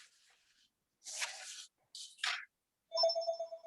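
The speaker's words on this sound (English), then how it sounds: "Did you try his cell phone, Bill, or was that his home phone you tried?" A cell phone ring, heard during a planning and zoning commission meeting: after some brief rustling and scraping noises, a clear electronic ringtone sounds at the end, fairly quiet.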